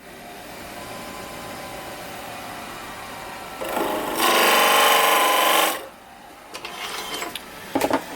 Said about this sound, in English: I'm going to use a 2-inch Forstner bit, and I'm not going to drill the hole. I'm just going to kind of mark it